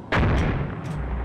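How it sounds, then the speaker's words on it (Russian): A tank fires a high-explosive shell between houses in the combat game ArmA 2 ACE: one sharp, loud boom with a short rumbling tail, then a fainter distant crack. "сейчас фугасом тут пальну между домов"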